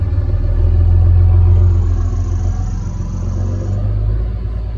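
MCI MC5a bus diesel engine idling, a loud, deep, steady rumble close by with a faint high whine above it, no voices.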